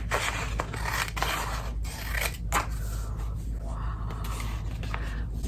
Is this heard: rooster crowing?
no